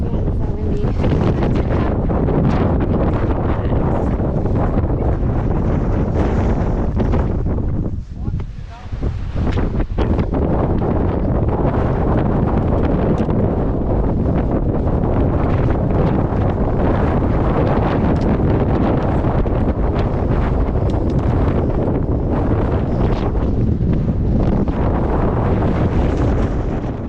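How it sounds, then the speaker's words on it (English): Strong wind on a mountain day hike near Mt Madison and Mt Adams blasts the microphone in a loud, sustained rumbling roar, dipping briefly once before surging again for the rest of the stretch. "so windy"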